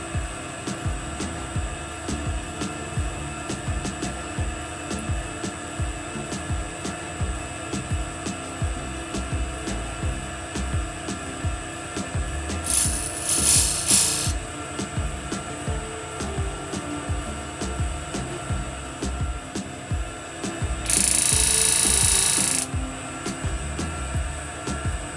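A gem faceting machine grinds the girdle of a ruby flat, giving a continuous close mechanical whir with rhythmic pulsing and two brief higher-pitched bursts.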